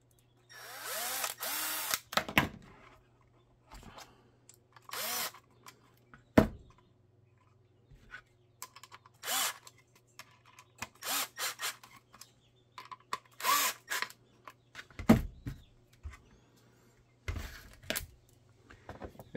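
A power drill drives a tap through coated metal in short, repeated bursts of grinding whine, with quiet gaps and a steady low hum between them.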